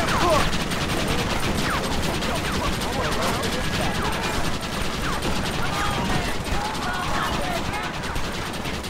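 Rapid gunfire rattles through a Red Dead Redemption firefight, dense bursts of shots and clattering impacts packed together almost without pause, loud and close, with a player's voice shouting over the shooting.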